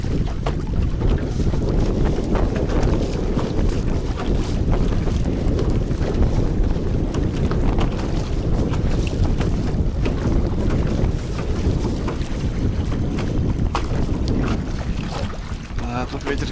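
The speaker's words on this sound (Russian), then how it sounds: "Ох, и ветер не дает даже забросить." Strong, steady wind roars across open water on a fishing trip, buffeting the microphone continuously with no break.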